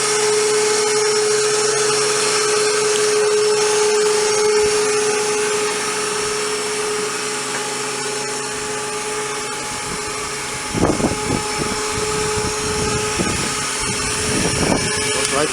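An automobile winch run by an up-and-down button lowers a ramp onto a deck. A steady motor whine runs throughout, with a few clunks and rattles toward the end.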